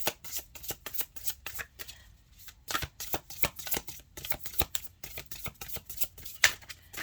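Tarot cards are shuffled by hand in quick riffling bursts, a close, crisp run of repeated flutters with brief pauses between them, with no voices over it.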